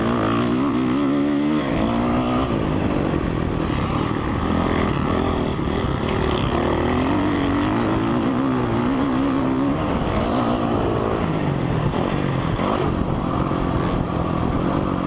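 A 2004 Honda CRF 450 dirt bike engine runs steadily for the whole stretch, its throttle rising and falling in smooth low-end surges, loud and close, with no talking.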